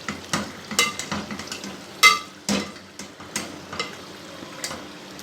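Tomato masala for a spiced okra (bhindi) curry fries in a pan, with a steady sizzle broken by repeated scraping stirs of the spoon, close and fairly loud, no voices.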